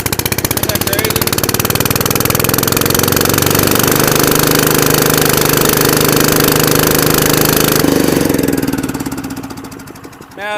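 A Bayliner 2150 boat engine, just started after the air filter was refitted, runs loud and close with a steady rough mechanical clatter for about eight seconds before it winds down and stops.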